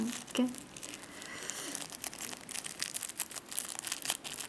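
A small plastic sachet of charms being handled, close crinkling and rustling that comes in uneven bursts and sometimes tears, with faint background murmur.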